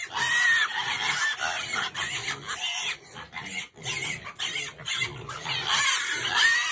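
Hungry pigs on a farm squeal and grunt loudly and continuously while waiting to be fed, a dense chorus of overlapping cries close by.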